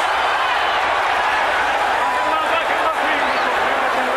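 A boxing arena crowd roars during a Mike Tyson fight, a dense continuous wash of cheering and noise that stays loud and steady without letting up.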